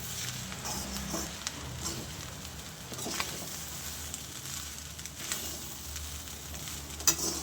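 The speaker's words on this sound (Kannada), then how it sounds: "ಇವಾಗ ನೋಡಿ ಕ್ಲೀನಾಗಿ ರೈಸ್ನ ಇದಕ್ಕೆ ಮಿಕ್ಸ್ ಮಾಡ್ಕೊಳ್ಳೋಣ" Soya rice being stirred and mixed in a hot pan, a steady soft sizzle with scraping strokes of the spoon throughout, close and moderately quiet, with no talking.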